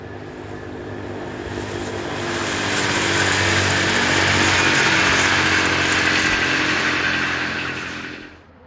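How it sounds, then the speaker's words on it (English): A Class 614 diesel train unit passes near Oberstreu, its engine drone swelling to a loud, close peak around the middle and fading at the end. "typified here by this Class 614 diesel unit seen near Oberstreu"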